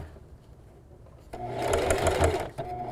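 Sewing machine zigzag stitching through scrap fabric, a close whirring run that starts after a quiet moment and continues with a brief dip near the end.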